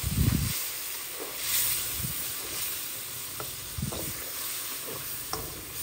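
Scallops fry in two tablespoons of butter over medium-high heat, giving a steady close hiss and sizzle with occasional soft scrapes and clinks of a utensil stirring in the pan.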